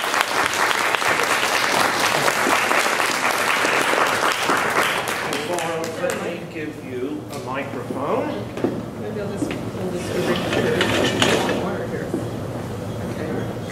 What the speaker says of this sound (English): welcome her with a warm show of Texas applause